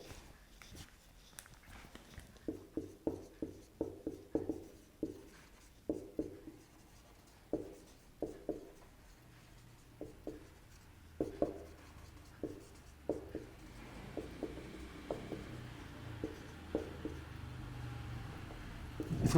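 A pen writes out a full form by hand, a close, quiet run of short scratchy strokes with brief pauses between words and no speech.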